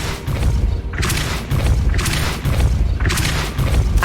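A Depulso spell cast in Hogwarts Legacy gives repeated heavy booming blasts, roughly every second and a half, loud and close with no talk.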